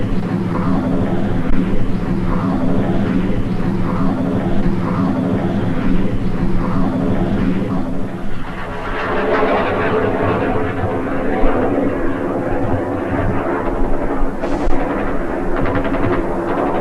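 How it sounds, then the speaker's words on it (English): Argentine A-4B jet aircraft during the 1982 Falklands War taxiing and taking off, a loud continuous engine roar, dense and rumbling throughout with no clear breaks. "A4B, carreteando y saliendo, suponemos que hacia la zona de Malvinas"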